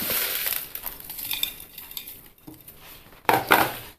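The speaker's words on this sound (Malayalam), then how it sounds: "ഇനി അതിൻ്റെ മേൽ ഏറ്റവും മുകളിൽ ഉപ്പുകല്ല് വേണം ഇട്ട് കൊടുക്കാൻ" Coarse rock salt is tipped over raw baby mangoes in a container for kannimanga pickle, giving gritty rattling and clinking that ends in a louder final pour, with no voices.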